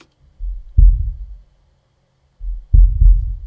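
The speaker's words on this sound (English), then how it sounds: "If you want that really long rumbling sound." Two deep, booming kick drum hits with long reverb, each with a long rumbling low tail that fades out, spaced about two seconds apart.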